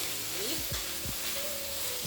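Mixed vegetables and potatoes fry in a pan with a steady loud sizzle, while a spoon stirs and scrapes through them in several short sweeps.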